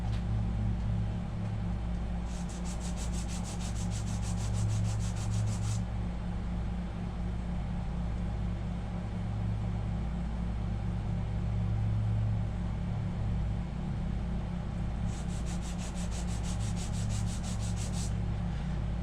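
Surfacing the dynamo commutator of a Rolls-Royce Springfield Phantom I: a steady, close abrasive rubbing and whirring drones throughout, with two stretches of brighter, hissier grinding.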